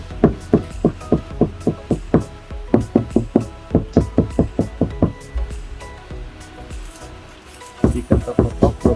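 Knuckle knocks on a Honda HR-V body panel lined with soundproofing and acoustic damping layers, landing as a steady run of dull, deadened thumps with a short pause, then a fresh burst of knocks near the end.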